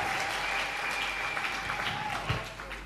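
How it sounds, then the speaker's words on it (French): A church congregation applauds loudly and steadily, a dense wash of clapping that fills the space, with a brief voice and faint tones underneath. "Est-ce que nous pouvons acclamer encore? Très fort pour celui qui a jamais."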